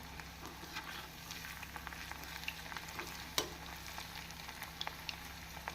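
Steady crackling sizzle of cauliflower deep frying in hot oil over high flame, with small pops and a faint low hum underneath, no voices.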